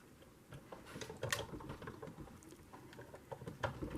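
A hand-cranked Sizzix Big Shot die cutting machine grinds and creaks with irregular clicks and crunches, moderately close, with no talking.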